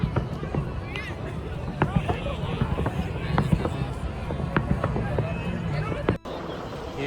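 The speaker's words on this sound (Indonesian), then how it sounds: "Ini masih ada kembang apinya, jadi banyak warga-warga yang melihat kembang api di sini." Distant New Year's Eve fireworks in Budapest pop and crackle in scattered sharp bursts over a steady murmur of crowd chatter outdoors.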